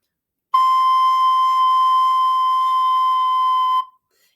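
A recorder sounds one sustained high C, held steady and clear for about three seconds before cutting off, played alone with no talk.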